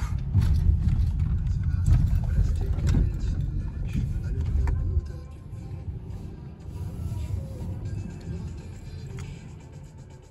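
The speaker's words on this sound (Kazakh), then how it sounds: "Аркадан машина кетат." A car drives past from behind on a road, giving a steady low engine and tyre rumble that is louder at first and then eases to a softer, continuing drone.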